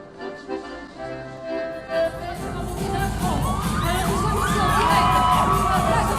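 After a dance performance, an audience breaks into loud, sustained cheering and shouting, with children's high voices rising over the crowd. The roar swells in after quieter moments and keeps building to the end.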